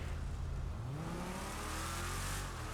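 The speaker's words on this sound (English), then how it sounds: "I noticed that we have some spitting going on. We have some exhaust." A Vapid Trophy Truck in GTA runs with a continuous loud engine roar, its exhaust spitting and crackling while the pitch climbs steadily, close and with no voices over it.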